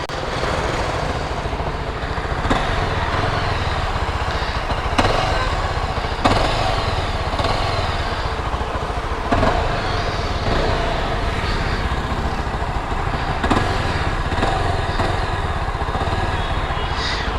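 A 2022 Yezdi motorcycle idles at around 2000 RPM, producing a loud, close, continuous engine drone with an even, steady rhythm and a few faint mechanical clicks, with no voices.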